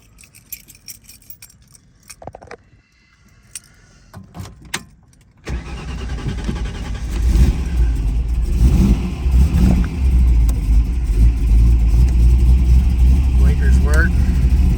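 1967 Shelby GT350 with a four-speed, Nightmist Blue: keys jingle and faint handling noises, then the V8 cranks and catches with a loud rumble, settling into a strong idle with throttle blips and revs building; a voice talks under it.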